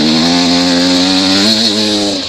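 A Beta 300RR two-stroke dirt bike engine revs loud and close, a raspy buzzing drone that holds steady, then surges slightly before dropping off.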